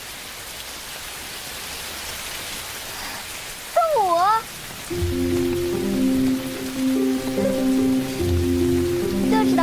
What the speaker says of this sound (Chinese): 哎呀，下雨了呀！